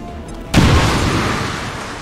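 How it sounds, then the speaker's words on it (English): A grenade blast in XCOM 2: War of the Chosen lands as one loud, deep boom after a quiet moment, then a long rumbling tail fading slowly. "We're gonna attempt to grenade the Chosen."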